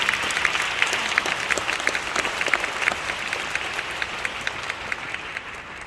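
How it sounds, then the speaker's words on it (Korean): Audience applause welcoming a speaker at a Korean Pentecostal conference, dense and steady with a few sharp individual claps standing out, staying even across about six seconds. "나오실 때 큰 박수로 환영해 주시고"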